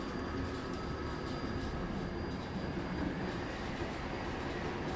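A tram rolls along rails in the Transport Fever 2 game, giving a steady, continuous rumble of wheels on track with a faint high whine, loud and even for the whole stretch without any talk.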